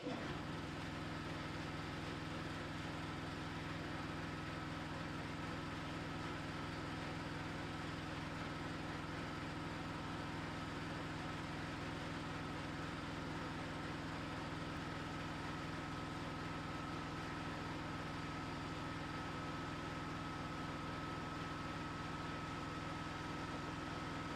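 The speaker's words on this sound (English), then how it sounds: "that was the compressor just kicked in while I was busy yabbering on about what my plan was" An air compressor runs in a home garage, a faint, constant motor drone with a steady hum and no change in level.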